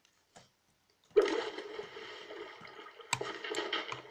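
Splashing water movement in the video game Minecraft: a quiet tap, then a sustained gurgling swish that fades, followed by a second burst of splashing, all moderately soft and free of speech.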